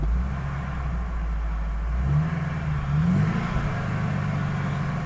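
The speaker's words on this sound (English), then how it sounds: "Alright, I'll give it one little rev." A 1999 Ford F250 pickup truck engine idles low, then rises in a short rev around the middle and lingers at a slightly raised pitch before settling, heard close and alone.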